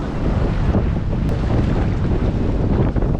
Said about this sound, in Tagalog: wow ang laki ng alon